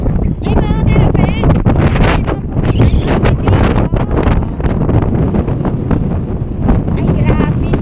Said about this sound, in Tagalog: Ay grabe sa lakas ng hangin.